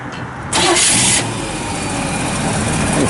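A 1958 Chevrolet Impala with a 348 Tri-Power V8 cranks and fires up loudly, catching after a brief burst and settling into a steady, close idle rumble.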